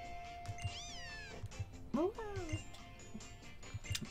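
A Litten's catlike cry rings out twice in Pokémon Ultra Sun, a rising-falling meow near 0.7 seconds and a sharper yowl near 2 seconds, over a soft game backdrop.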